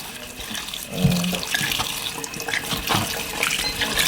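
Crushed eggshells rinsed under a running kitchen tap, a steady splashing stream of water with small rattles and knocks as the shells are handled in the sink.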